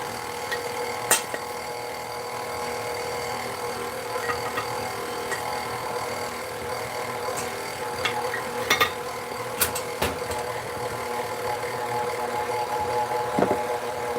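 Electric stand mixer running at high speed while mixing birthday cake batter with buttermilk, a steady whirring motor hum with occasional clicks and knocks, close and continuous, no talking.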